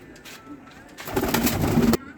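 Pigeons coo softly at close range, a low throaty warbling that swells in the second half amid faint rustling.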